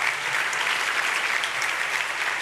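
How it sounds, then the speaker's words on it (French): An audience applauds two Belgian MT180 finalists at the national final at ULB, a steady, dense wash of clapping that holds evenly throughout. "on peut encore vous applaudir ça pour ça. Ça s'applaudit très fort"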